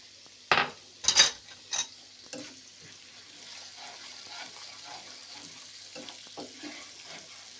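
Browned small onion goes into a pot for Lahori khoye wale chanay, with a few sharp clinks and scrapes of a spoon early on, then a steady low sizzle and soft stirring in a quiet kitchen.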